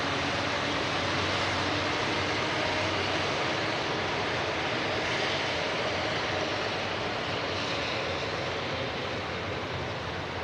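A heavy long-haul airliner bound for Singapore rolls onto runway 05 left at Manchester Airport, a loud, steady broadband engine roar that holds constant throughout with no voices.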